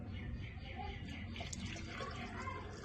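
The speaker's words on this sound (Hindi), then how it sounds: "अब मैं इसमें थोड़ा पानी डालने लगा हूँ कि जिसमें ये पाए डिप हो जाएं" Water being poured into a pressure cooker holding paya trotters, a soft continuous splashing and trickling at low level in a home kitchen.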